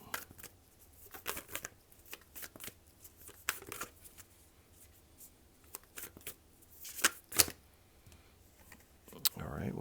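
Tarot cards are shuffled and drawn by hand in a series of quick, crisp riffles and soft slaps, close and fairly quiet, with brief speech passing between the bursts.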